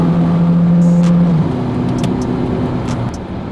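A car drives past close by, its loud engine and tyre roar slowly fading as it moves away, over steady outdoor background noise, with no talking.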